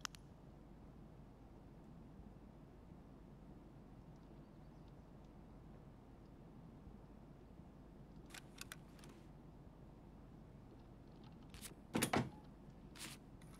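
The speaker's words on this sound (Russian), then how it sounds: "Да, прямо надо мной дверь открылась" A door opens in Escape from Tarkov, heard as a quiet creak and clatter near the end over a low steady background hum, with a few faint clicks before it.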